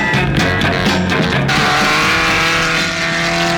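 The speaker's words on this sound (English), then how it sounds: "Now, Dick, cut in the supercharger." The Batmobile's engine roars loudly and close by as its supercharger cuts in, with a rising, throaty rush and no talk over it.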